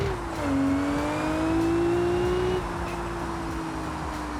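Race car engine in an RLS drag race pulls hard and loud, rising steadily in pitch as it accelerates, with a brief shift around the midpoint before it keeps climbing, alone with no talk.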